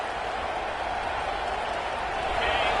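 In a Georgia versus Penn State college football video game, a packed stadium crowd gives off a continuous, dense roar of noise that holds steady and loud across the whole moment.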